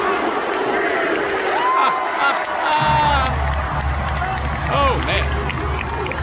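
WrestleMania 38 arena crowd roaring and cheering in replayed footage, a dense continuous wash of voices with whistles and shouts, while someone talks over it briefly.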